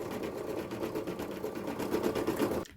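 Computerized embroidery machine stitching a photo design in thread, running steadily with a fast, even needle rhythm close by and no talking, then cutting off abruptly at the end.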